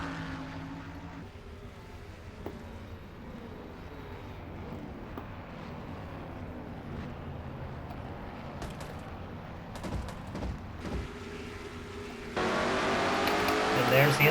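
Stock car engine heard from an in-car camera during a lap around Sonoma in the NNSCRA Castrol GTX Cup Series, a sustained droning roar shifting pitch through corners, with a louder burst near the end, under race commentary.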